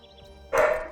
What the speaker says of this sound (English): Apologize for the dog outside.